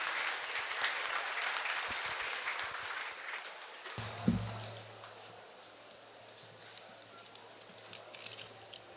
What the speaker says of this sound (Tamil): நமது மருத்துவர் திருமதி கு கவிதா அவர்களை உங்களின் பலத்த கரகோஷங்களுடன் வரவேற்று மகிழ்கிறது சக்தி பாலிடெக்னிக் கல்லூரி.